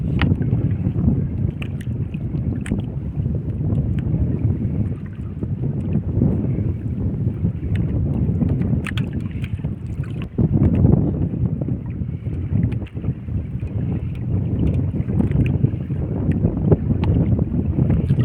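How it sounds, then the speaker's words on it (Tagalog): Steady wind buffets the microphone out on a fishing boat, a constant low rumble with gusts swelling and easing, loud throughout and with no talk over it. "Medyo mahangin-hangin."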